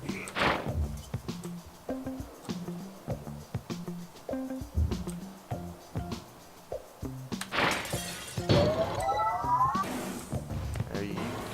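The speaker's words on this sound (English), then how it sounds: "the breaking of this glass is a necessary evil" Glass shattering in the puzzle video game Quantum Conundrum, a loud crash near the end with falling shards and a whooshing sweep, after stretches of game thuds and quiet background speech.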